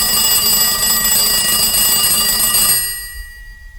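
A telephone rings on an outgoing call to a London Heathrow Airport transport information line, a loud, continuous electronic trill that holds steady for nearly three seconds and then cuts off abruptly.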